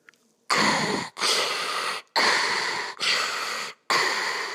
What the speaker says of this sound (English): Such as Ujjayi breathing. It sounds like Darth Vader.